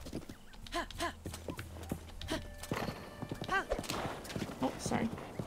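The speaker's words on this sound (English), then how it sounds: "This horse is crazy." Horse hooves clip-clop rhythmically in The Legend of Zelda: Breath of the Wild, with a whinny or two, under a player's frequent talk.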